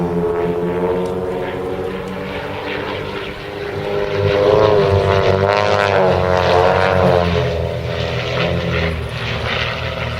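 Propeller-driven aerobatic plane of the Wildcat Aerobatics team looping at the East Kirkby airshow, its engine a loud, continuous drone that swells in the middle of the manoeuvre and stays steady to the end.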